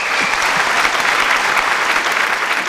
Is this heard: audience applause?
yes